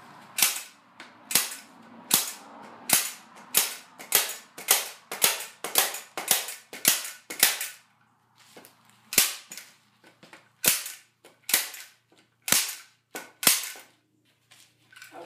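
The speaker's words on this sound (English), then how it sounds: "Go ahead and staple this all down." A staple gun driving staples through hovercraft skirt material, a rapid series of about twenty sharp, loud snapping shots in close succession with a short pause midway.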